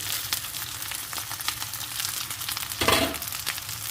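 Egg is being cooked into fried rice in a hot pan, giving a steady crackling sizzle with frequent light stirring scrapes and a louder burst of frying near the end, heard close with no voices.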